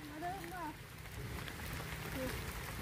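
Rain falls in a steady broadband hiss, with brief voices talking over it near the start and again later.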